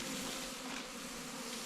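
Honey bees buzz inside a packed winter hive that has just been topped up with sugar, a steady, close, dense drone without pause.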